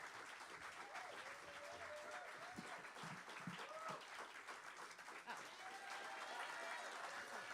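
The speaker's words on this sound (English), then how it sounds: "Y'all can just keep that applause going" Audience applause at a live concert as a singer-songwriter is welcomed to the stage, a steady wash of clapping held at an even level throughout, with brief voices and a few whoops surfacing over it.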